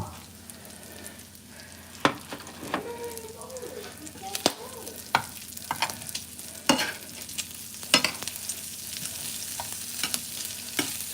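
Sausages fry in a pan with a constant close sizzle and crackle. Sharp clicks and scrapes of stirring break through now and then, and a faint voice sounds briefly underneath.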